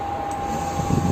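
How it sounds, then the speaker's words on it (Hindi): An Arduino voice-controlled homemade air cooler runs with a steady electric motor hum and fan whoosh, a constant tonal drone close by with a slight rumble building near the end, no talking. "तो देखिए गाइस कूलर ऑन हो गया।"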